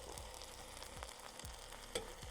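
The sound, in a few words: pork tenderloin searing in a Dutch oven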